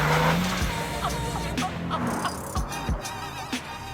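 Lamborghini Huracan STO sliding and understeering on a narrow Italian road, engine droning steadily with brief tire scrub bursts and gear or throttle blips, loud and close throughout.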